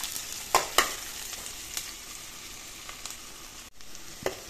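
A spice paste and onions fry in hot oil for an Assamese-style fish curry, a steady bright sizzle with a few sharp spatula knocks and scrapes, close up and without talk.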